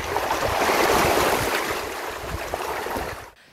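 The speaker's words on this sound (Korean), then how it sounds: "밀려갔다 밀려오기를 반복하며 잔잔히 부서지는 한려해상의 파도소리" Gentle sea waves washing in and out along the shore at Hallyeo Maritime National Park in Korea, a steady soft rush of surf with light wind, close and continuous until it fades at the end.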